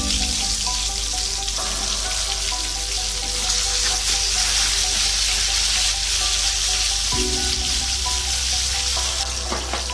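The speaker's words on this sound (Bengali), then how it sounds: "এবার ওই তেলের মধ্যেই পটলগুলো ভেজে নেব।" Pointed gourd (potol) frying in oil, the same oil potatoes were just fried in; a loud, continuous close sizzle and crackle runs throughout with no talk.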